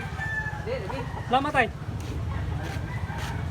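A rooster with blue legs, about 18 months old, crows once in the middle of a rural yard, with a steady low background hum and someone speaking briefly.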